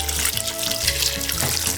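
Hot water pours into an Instant Pot over pea soup ingredients with ham, a steady close splashing stream running for under two seconds with no talk.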